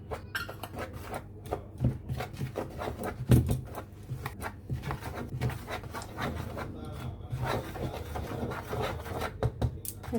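Dry flour, spices, ginger, garlic and salt are stirred together in a bowl for beguni batter, giving a steady close scraping and rubbing with irregular soft taps against the bowl, with no talk heard.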